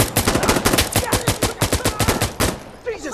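Rapid automatic gunfire from a QPS-11 rifle in the shooter game Insurgency: Sandstorm, a dense run of sharp, evenly spaced shots filling about two and a half seconds before cutting off into brief quieter game sounds.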